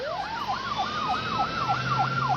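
An ambulance siren wails in a rapid rising-and-falling sweep, loud and close over steady road noise, with no speech.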